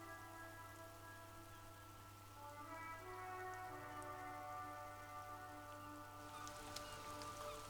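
Steady rain in the Disco Elysium video game, a constant soft patter over a low ambient hum and drawn-out tonal music, at moderate level throughout with no talk.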